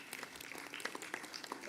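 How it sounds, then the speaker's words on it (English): Applause from a conference audience at an international higher-education event as a memento is presented, a faint, steady patter of many hands clapping that lasts the whole short moment. "A round of applause is well deserved."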